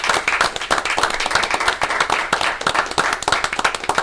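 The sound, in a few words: audience applause honoring a community member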